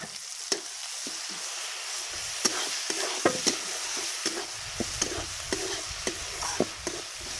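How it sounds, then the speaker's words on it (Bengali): Garlic and ginger paste stirred into frying onions in a pan over a coal fire, with a soft sizzle under repeated sharp scrapes and clacks of the spoon, close and fairly quiet. "দেখেন পেঁয়াজটা ভাজা হয়ে গেছে। আমি দিচ্ছি রসুন আর আদা বাটা।"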